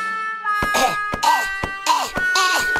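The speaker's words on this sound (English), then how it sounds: "On his feet again, Dr. Spooky coughs. Coughs more. And even more." A cartoon villain, a mad scientist type, coughs in several harsh, close bursts, each followed by a short pause, over a sustained musical tone.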